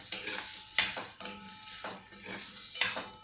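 Raw mango pieces being stirred through oil and turmeric in a pan over an unlit gas flame, with sharp scraping strokes at an irregular pace and a soft oily sizzle beneath, close and alone.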